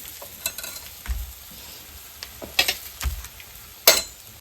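A pudla, a chickpea-flour pancake, fries in oil in a pan with a soft sizzle, broken up by several sharp spatula scrapes and taps against the pan, and no voices.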